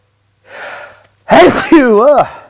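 A sharp inhale followed by a loud, close sneeze, then a voice breaking into a wavering vocal sound right after.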